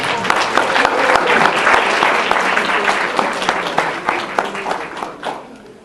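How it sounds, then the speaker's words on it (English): An audience at a fall university graduation ceremony for math, computer science and physics graduates claps in dense, steady applause that holds strong for several seconds and then gradually fades away. "So let's give our graduates a round of applause."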